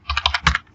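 Rapid, close keystrokes on a computer keyboard while entering HTML entity code, about eight quick clicks in an uneven burst lasting under a second, with no talking.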